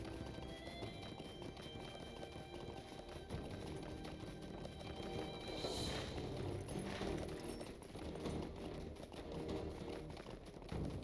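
Galloping horse hooves in the video game LOTRO, a steady rhythmic clip-clop running throughout over a soft game ambience, with faint bird calls in the background.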